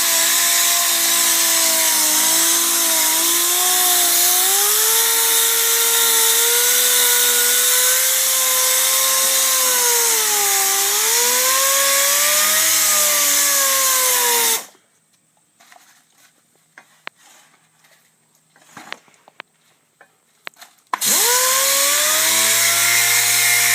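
A DA sander with 600 grit polishes a stainless IRS catback exhaust, a loud, steady whine with shifting pitch that stops for several seconds of quiet handling noise, then starts up again.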